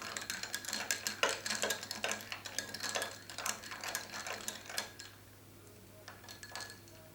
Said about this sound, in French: On va venir plier tranquillement avec la cuillère.